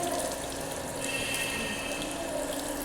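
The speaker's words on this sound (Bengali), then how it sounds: "দুই হাত ধুয়ে নাও, দুই হাতটা ধুয়ে নাও।" Water runs steadily from a tap for a few seconds as hands are washed, a soft continuous splashing hiss.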